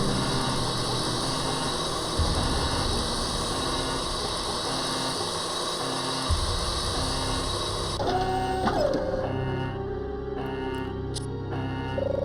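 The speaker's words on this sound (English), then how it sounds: "Okay, now we get the 3D printer to print a duplicate for us." 3D printer printing a duplicate in Resident Evil Code Veronica X: a steady mechanical hum and whir for about eight seconds, then a drop to a quieter tone with a rising electronic whine and a few small clicks, no speech.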